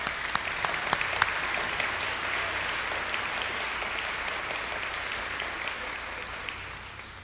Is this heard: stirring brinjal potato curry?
no